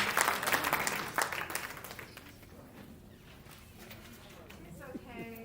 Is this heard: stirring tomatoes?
no